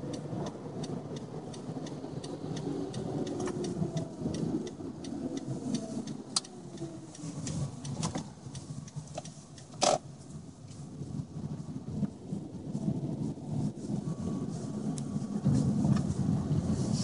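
A 2004 Toyota Prius with a failing ABS gives off a steady droning whir inside the car, continuous and fairly loud, with a few brief clicks and knocks on top and no talking.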